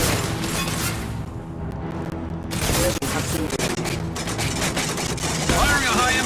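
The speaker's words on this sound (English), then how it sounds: "Firing a high-impact shot!" Heavy high-impact gunfire in Mass Effect 2, loud and dense, with booming shots layered over game music and effects and a voice talking throughout.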